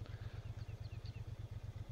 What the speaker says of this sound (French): j'adore le bruit de son moteur